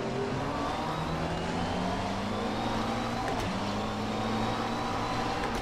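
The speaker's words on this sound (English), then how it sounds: "those downshift sounds in this car, amazing." A GT3 race car engine in the video game rFactor 2 roars steadily with a sustained high-pitched tone, dipping briefly as it downshifts, loud and close with no talking.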